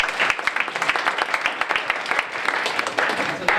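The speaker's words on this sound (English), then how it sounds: "We can give a huge applause for that." An audience at a city town hall meeting applauds: dense, steady clapping from many hands, fairly close and continuous throughout.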